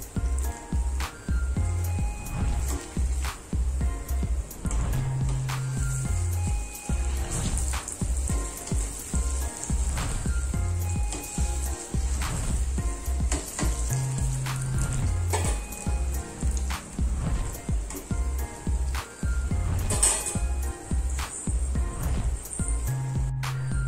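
Food frying in a pan sizzles with a continuous crackling hiss for a Tamil New Year lunch menu, steady and close throughout, without any talk.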